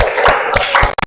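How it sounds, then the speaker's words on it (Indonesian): A class claps for group presentations in a lesson on nutrition: several loud, closely spaced handclaps in about a second, with a steady tonal hum beneath. "tepuk tangan untuk kita semua"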